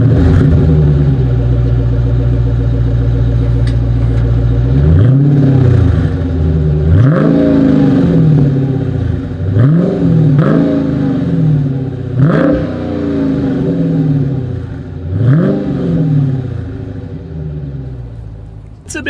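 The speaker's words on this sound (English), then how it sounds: "As always, here is that exhaust clip." A 2021 Dodge Challenger 6.4 Scat Pack V8 idles loudly, then its exhaust swells through five or six sharp revs spaced a few seconds apart, each climbing and falling back to a deep rumble, close and alone.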